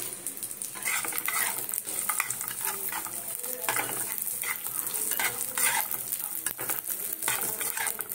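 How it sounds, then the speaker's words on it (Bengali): Cashews and raisins fry in ghee for coconut naru, a close steady sizzle broken by repeated scraping and clinking of a spoon stirring the pan, with no talking. "ঘি দিয়ে এবারে কাজু কিশমিশটা দিয়ে দেবো।"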